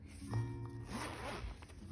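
Zipping up a Hobonichi drawer pouch, with one short rough zipper pull that runs stiffly, close by and quiet, with a soft rustle of fabric around it.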